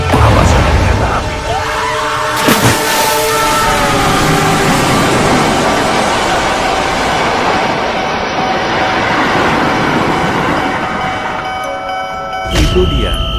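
A train rolls past a railway crossing, a loud, continuous rumble with steady tonal hum and metallic ringing holding for the whole stretch, with a couple of sharp clanks near the start and end.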